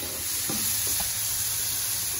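Butter sizzles in a hot pan on a Weber Kettle charcoal grill, a steady close hiss with a couple of soft stirring scrapes and no voices.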